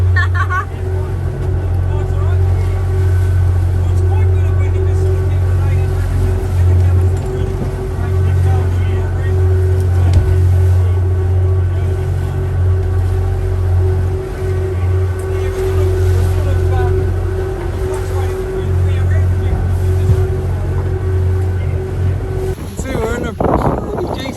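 Boat motoring across choppy open-ocean swell on a crossing between islands, a loud continuous engine drone with wind buffeting and water rush throughout, a voice briefly audible near the end.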